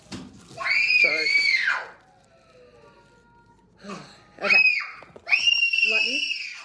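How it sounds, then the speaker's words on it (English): Loud, ear-piercing screams from a young child, two long shrill bursts separated by a brief quiet gap, with a shorter cry in between, close to the recorder. "That is a very annoying ear piercing scream."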